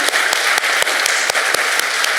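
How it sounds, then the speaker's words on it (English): A book festival audience gives a round of applause after an author interview, loud, dense clapping from a crowd that runs steadily, with faint regular accents running through it. "can we have a round of applause?"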